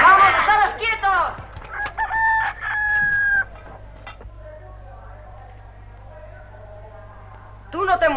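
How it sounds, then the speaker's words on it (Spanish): Hen clucking and a rooster crowing in a 1961 film soundtrack: several sharp clucks, then a long crow, then a quiet stretch and more clucking at the end, with people talking at times. "¡La gallina!"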